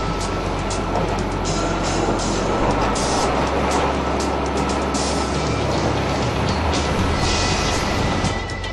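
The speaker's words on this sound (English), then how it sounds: "Scrape out the blasted rock debris in the lower section of the workface toward this side" Heavy hydraulic excavator clearing blasted rock debris from the lower workface, a steady loud diesel rumble with continuous grinding and scraping noise throughout, close and alone with no talk.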